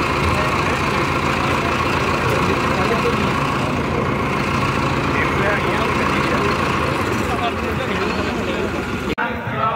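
A 2023 Mahindra Novo 4WD CRDI tractor engine idles with a steady, even drone that holds throughout, with someone talking over it, before a brief break near the end.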